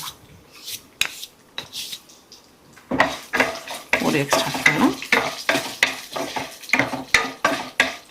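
A spatula stirs dill and dal palya in a pan, giving rhythmic scraping strokes over a gentle sizzle, sparse at first and then fast and steady, with a few metallic clinks.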